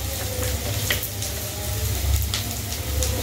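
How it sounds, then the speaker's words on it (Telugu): Something fries in hot oil until golden brown while making chicken biryani, a steady low sizzle with occasional crackles and stirring, close and continuous, with no talking. "గోల్డెన్ బ్రౌన్ అయ్యేవరకు మనం వేపుకుందాం"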